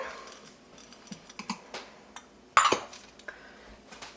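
Chopped Rold Gold thin pretzel pieces dumped into a bowl of store-bought cookie dough, a few light clinks and rustles followed by one sharp rattling clatter, close and fairly loud, then quieter settling.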